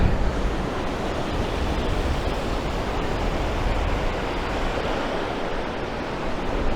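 Baltic Sea waves wash onto the shore at the seaside town of Ustka in Poland, a steady broadband roar of surf mixed with wind that stays loud and even throughout, with no one talking.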